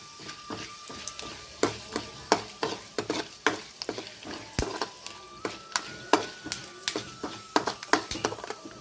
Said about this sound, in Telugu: నూనె వేడెక్కేసింది తాలింపు గింజలు వేసుకున్నాము